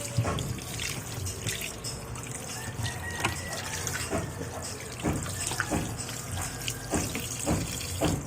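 Tap water runs steadily into a kitchen sink while raw chicken is washed for a home-cooked dish, with trickling, splashing bursts and soft knocks throughout, close and fairly quiet.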